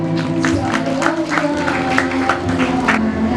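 Schoolchildren applaud together at a closing and prize-giving ceremony for competition winners at SMP Nurul Quran in Banda Aceh, a steady patter of many hands clapping at moderate loudness over a hall, with a voice and tonal sound underneath.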